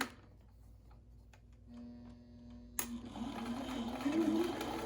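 A sewing machine reverse-stitches a fabric mask, its motor whirring in a short steady run after a few quiet ticks, close but fairly soft, with a voice briefly talking.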